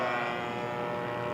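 A scale model T-28 aircraft takes off, its engine giving a steady loud buzzing drone close by for a brief moment.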